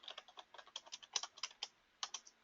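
Rapid, irregular keystrokes on a computer keyboard as a session description is entered into testing software, close and clear with no voice, in short bursts of clicks with brief pauses.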